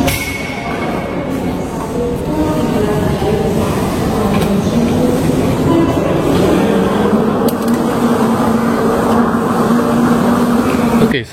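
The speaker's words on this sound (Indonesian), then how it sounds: "sekarang kita sudah berada di dalam kereta bandara, kereta Skytrain ya" Interior of the Kalayang Skytrain airport train at Soekarno-Hatta airport in motion, a loud continuous rumble and rolling roar with steady tonal hum, lasting throughout without pause.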